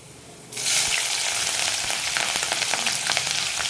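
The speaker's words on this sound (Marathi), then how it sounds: "इथे लसण लालसर रंगावर आलं की त्याच्यामध्ये मोहरी टाकायची थोडंसं जिरं टाकायचं कढीपत्ता टाकायचा थोडीशी हिंग टाकायची मिरचे टाकायचे" Garlic, mustard seeds, cumin, curry leaves, asafoetida and chillies hit hot oil in a village-style spring onion dish, setting off a sudden loud, sustained sizzle with crackling pops close by.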